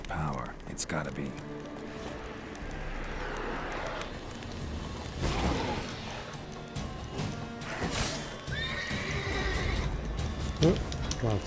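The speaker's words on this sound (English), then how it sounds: "Oh, got tossed off my horse." A horse in a video game neighs and throws its rider amid hoof clatter and a crash, set against game ambience, with someone talking over the action.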